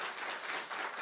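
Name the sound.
congregation clapping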